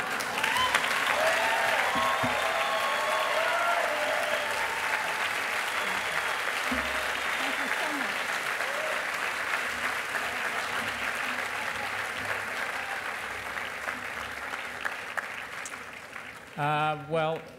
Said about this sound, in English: what about nice big round of applause one more time for everybody that's here?